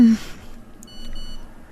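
A mobile phone gives a short electronic notification tone, a brief high steady beep that is fairly clear, heard after a low tone at the very start, with no talking.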